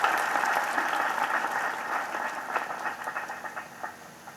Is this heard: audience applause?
yes